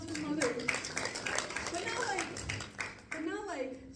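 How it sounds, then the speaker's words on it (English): Moderate clapping from an audience in a comedy set mixes with overlapping voices and someone talking, a thin, scattered round of applause rather than a full ovation. "Give a round of applause for mothers."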